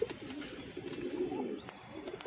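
Pigeons cooing in a pigeon loft, a steady low rolling coo repeating throughout, fairly close, with faint higher chirps over it and no talk.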